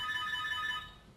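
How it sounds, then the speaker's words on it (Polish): A quick electronic chiming tone from an intercom repeats rapidly for under a second, then cuts off into quiet room noise. "Teraz będziecie słyszeć, jak do mnie na domofon dzwonią."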